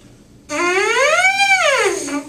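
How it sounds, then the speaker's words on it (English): A lone horn mouthpiece buzzes a single tone that glides smoothly up and then back down in pitch, with no separate notes. "When I just play the mouthpiece, it sounds like this."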